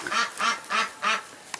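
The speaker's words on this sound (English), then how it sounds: "we've got ducks and chickens and a couple geese" A duck in a backyard pen kept with chickens and geese quacks four times in an even rhythm, close and clear, followed by a faint short click.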